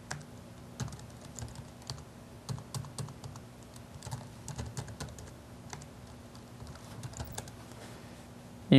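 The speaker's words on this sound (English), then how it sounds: "and so I'll just type those in here quick." Server names being typed on a computer keyboard, a quick continuous run of light key clicks under a steady low hum, with no voices.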